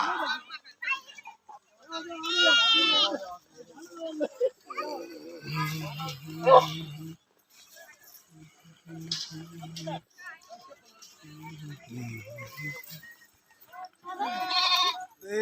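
Sheep and lambs bleat at a devotees' camp of Sant Balumama, with several wavering calls spaced several seconds apart and people talking in between.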